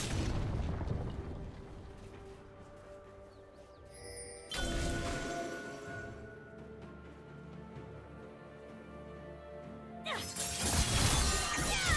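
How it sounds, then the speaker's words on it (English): A turret crumbles in League of Legends during a top-lane Irelia versus Darius match, with two heavy crashing bursts, one midway and a louder one near the end, over steady game music and effects. "Red team's turret has been destroyed."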